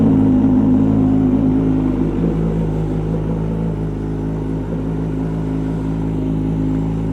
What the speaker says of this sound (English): this bike is so loud, man